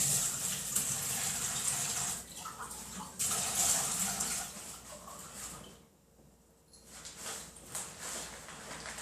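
Water runs from a tap into a measuring cup in a steady splashing stream, pausing briefly before flowing again, fairly close and moderately quiet.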